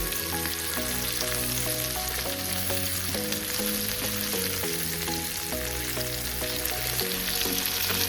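Semolina-coated Goan cafreal prawns fry in a pan, giving a continuous bright hiss and sizzle under loud background music, with no speech.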